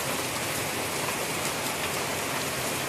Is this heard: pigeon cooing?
no